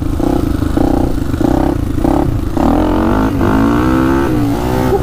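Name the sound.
Honda 400ex big bore ATV engine accelerating through gears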